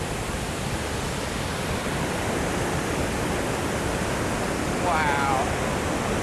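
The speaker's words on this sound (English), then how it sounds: "377-foot waterfall of glacial meltwater that runs off Nugget Glacier, down Mount Bullard, and into Mendenhall Lake" Nugget Falls, a 377-foot glacial meltwater waterfall running off Nugget Glacier into Mendenhall Lake near Juneau, Alaska, roaring as a steady, loud, broadband rush heard from close by.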